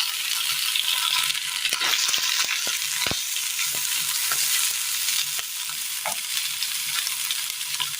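A crushed coconut mixture fries in a pan after mustard seeds have popped, giving a steady, close sizzle with occasional stirring scrapes and small pops.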